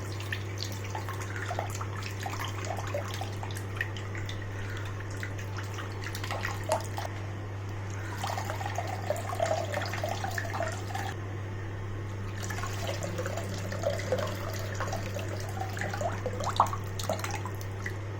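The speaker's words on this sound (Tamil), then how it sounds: "புளி வந்துட்டு கரைச்சி வடிகட்டிக்குங்க." Tamarind is dissolved in water and strained for a fish curry, with soft sloshing, trickling and splashing of liquid in bursts over a steady low electrical hum.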